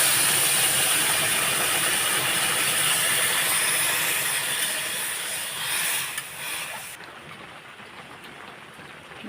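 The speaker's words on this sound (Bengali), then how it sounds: "গরম জল করে রেখেছিলাম গরম জলটা আবার দিয়ে দেবো" Hot water is poured into a pan of fried, sizzling curry. It makes a loud, steady hiss that eases off after several seconds and then settles into a quieter simmer, with no voices.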